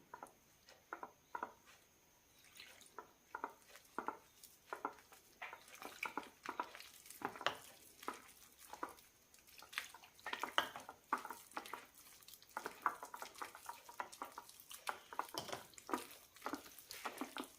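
A spoon stirs thick, sweet bonda batter in a bowl, giving quick soft repeated taps and scrapes in an uneven rhythm, close and fairly quiet, with no voices.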